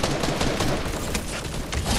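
Rapid gunfire in a video game fills the whole stretch as a dense, steady barrage of loud overlapping shots with no pauses.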